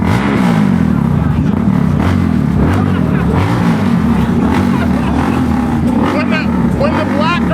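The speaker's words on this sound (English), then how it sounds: "he starts his motorcycle up" A motorcycle engine running close and loud, a continuous rough idle and rev with throttle surges, while people talk over it throughout.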